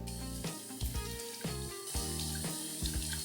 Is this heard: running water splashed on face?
yes